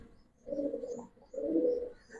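A Giribaz pigeon gives two clear, soft coos close by, each lasting under a second, with a short pause between and quiet surroundings.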